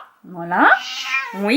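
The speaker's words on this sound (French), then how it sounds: "Et ce que vous entendez, c'est mon chat," A pet cat meows indoors, close by, with a long drawn-out meow followed by a shorter one, while someone speaks briefly in French.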